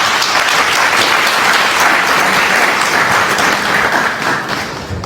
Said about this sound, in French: Il faut les applaudir, s'il vous plaît.